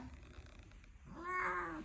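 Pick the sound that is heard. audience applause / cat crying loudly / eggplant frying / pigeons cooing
cat crying loudly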